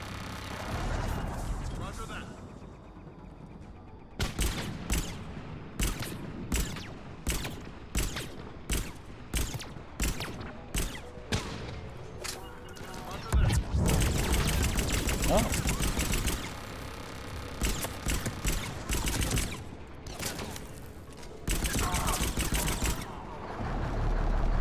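Bursts of gunfire from Mass Effect 3 gameplay, a string of sharp repeated shots in clusters with brief gaps, loud and close, mixed with a voice talking over the action.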